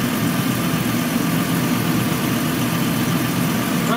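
2007 Chrysler Pacifica engine idling smoothly, a steady, even low rumble with broad mechanical hum, close and constant throughout with no talking.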